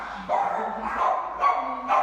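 A nervous dog at an animal shelter gives a few short barks and yips in quick succession, fairly close and moderately loud.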